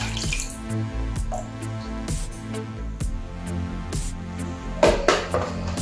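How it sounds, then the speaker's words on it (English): Water is poured into a cooking pot while homemade tomato paste is being made, with a steady stream and a few sharp clinks and drips against the pot. "Now I'm going to get some water and then pour it in here."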